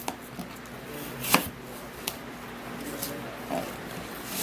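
Knife chopping an onion on a cutting board in a home kitchen, heard as a few scattered soft thuds and cuts over a steady background hiss. Faint and irregular, with no talking.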